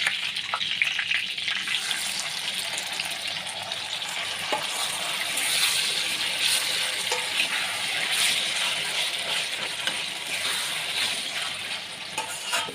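Masala-coated chicken liver sautéing over high heat in a pan, a continuous loud sizzle with soft stirring scrapes throughout and no speech.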